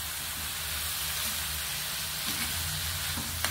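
Vegetables for lumpiang gulay sizzle and fry in a pan while being stirred, a steady close hiss with a few soft scraping knocks near the end.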